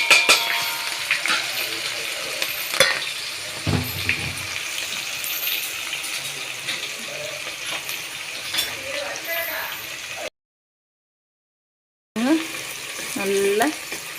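Onions fry in a pan for chicken salna alongside cloves, star anise, nutmeg and curry leaves, a continuous loud sizzle with occasional clinks of a stirring spoon, broken by a short silent gap and some voices.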